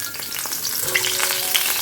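Eggplant slices fry in oil left over from frying luchi, giving a steady, dense sizzle and crackle that stays close and fairly loud throughout, with no voices.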